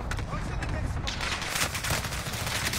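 Gunfire in a video game, dense sustained shooting and explosive bursts throughout, with a voice talking over it.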